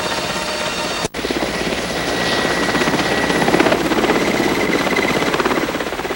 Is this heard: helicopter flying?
yes